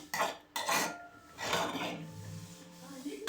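A utensil stirs and scrapes upma in a pan in a few uneven strokes, metal rasping against the cooking surface, close and fairly quiet.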